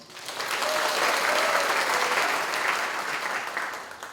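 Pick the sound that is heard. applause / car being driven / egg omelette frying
applause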